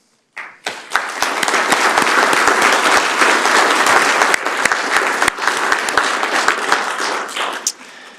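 An audience breaks into sustained applause for police officers at a 2019 EPD awards ceremony, a dense, loud wash of clapping hands that starts abruptly and carries on steadily for several seconds before tapering off.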